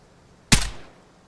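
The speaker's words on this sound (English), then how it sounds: "Watch what happens when I shoot this corpse." A single loud gunshot fired at a corpse in the video game Vigor: one sharp, close crack with a short booming tail that fades within half a second, heard alone against quiet ambience.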